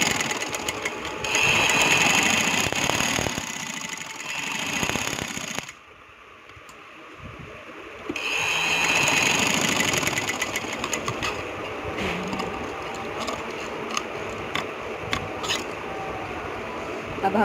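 A sewing machine runs steadily along the edge of a pair of square-cut trousers, a loud, continuous motor whir with one short pause midway before stitching resumes.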